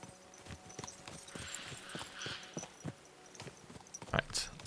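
A horse's hooves clip-clop at a walking pace while it is ridden in the Kingdom Come: Deliverance II video game, a steady run of soft thuds under quiet game ambience, ending with a brief sharper sound.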